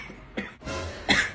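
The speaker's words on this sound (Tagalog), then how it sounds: "Parang inuubo na to ah." A person coughing a few times in short harsh bursts, close and fairly loud, with no other talk around it.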